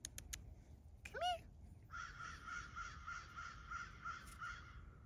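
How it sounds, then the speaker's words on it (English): Crows caw repeatedly outdoors in a steady run of harsh, fairly close calls lasting several seconds, following a brief higher bird note near the start. "The crows are watching you."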